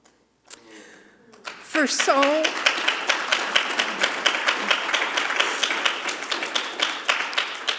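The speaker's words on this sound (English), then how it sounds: "Are you clapping because I'm crying?" After a brief spoken moment, a Unitarian Universalist congregation at a Sunday service breaks into sustained, rhythmic clapping that continues steadily, with a voice heard over its start.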